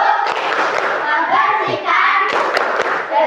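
Children clap hands together in a quick rhythmic pattern, a lively group clapping game (tepuk) in an elementary school Islamic studies class with steady beats, fairly close and loud.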